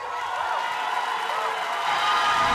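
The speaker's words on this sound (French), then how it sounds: "merci de faire un tonnerre d'applaudissements pour Jonathan Daoudi!" Olympia gala audience at a charity concert cheers and whoops, with scattered applause building slightly toward the end, crowd noise filling the hall with voices mixed in.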